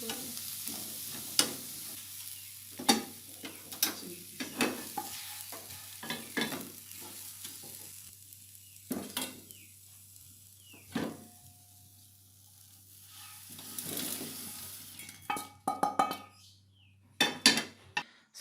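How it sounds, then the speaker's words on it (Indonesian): Red chilies and dried chilies are dry-roasted in a pan and stirred with a utensil, giving repeated scraping strokes and light crackling at irregular intervals, with a quieter pause in the middle and a burst of clatter near the end. "Selanjutnya, sangrai juga cabai merah dan cabai keringnya."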